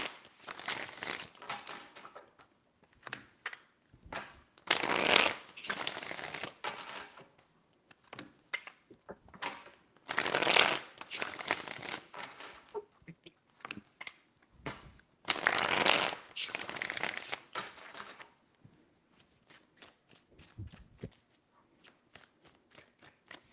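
Tarot cards shuffled by hand in several distinct bursts of crisp riffling and flicking, each a few seconds long, separated by quieter gaps with light handling, close and clear.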